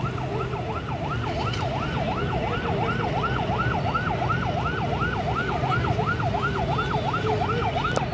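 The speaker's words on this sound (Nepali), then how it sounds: "एम्बुलेन्स आइरहेको अवस्था छ।" Ambulance siren on a Kathmandu street, a steady wailing up-and-down tone repeating rapidly and continuously over constant traffic rumble, loud and close throughout.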